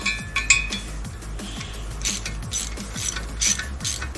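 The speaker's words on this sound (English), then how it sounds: "I'm using a 11mm socket." A ratchet with an 11mm socket tightens nuts on a Puch Magnum moped, giving repeated quick clicking strokes in short bursts with metallic clinks, close and fairly loud, with no talking.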